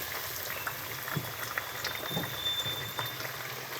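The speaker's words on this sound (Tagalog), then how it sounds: "magprito tayo ng balat ng manok." Chicken skin frying in a pan gives off a steady sizzle with scattered pops and spits, a moderate continuous hiss and crackle without talk.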